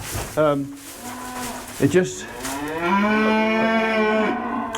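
Beef cattle on a farm moo in long, loud, drawn-out calls close by, one low lowing call following a brief grunt and some knocking.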